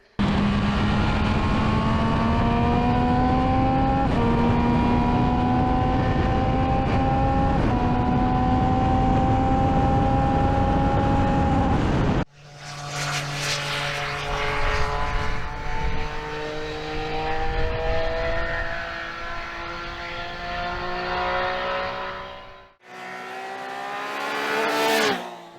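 A 2025 Triumph Speed Triple 1200 RS motorcycle engine while riding, a loud continuous drone rising in pitch through the gears, with an abrupt cut, a rougher lower stretch, then a brief burst at the end.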